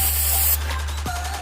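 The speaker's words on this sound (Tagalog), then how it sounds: "kaya konting spray lang talagang kumakapit na yun" Rubberized seal spray hissing from an aerosol can in a steady, loud burst over about half a second, then stopping, leaving a low hum and faint background noise.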